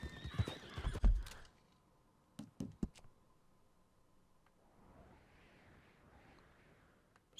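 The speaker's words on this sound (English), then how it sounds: "there's a horse here" A horse in the open-world western game Red Dead Redemption 2 gives a short neigh with hoof clip-clops, then a few sharp clicks, and a soft breathy snort trails off in a quiet scene.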